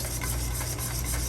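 Egg yolk and oil are whisked by hand in a bowl for homemade mayonnaise, making a close, continuous scraping rasp with quick rhythmic strokes.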